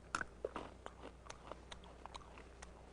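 A puppy crunching on a homemade peanut butter dog treat, a run of sharp, irregular bites and chews, quiet and close, with no voices.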